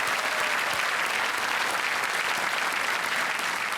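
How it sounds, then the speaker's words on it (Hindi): Steady applause from a studio audience on a KBC quiz show as a female contestant, a Teach for India fellow from Thane, Maharashtra, is welcomed, continuous and dense throughout with no talk. "तालियों के साथ एक बार फिर इनका स्वागत"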